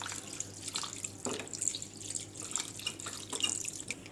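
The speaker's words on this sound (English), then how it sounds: "Keep on adding cold water." Cold water running and splashing over freshly curdled chhena being rinsed for rasmalai, a steady tap-like trickle with small drips and splashes throughout, close and fairly quiet.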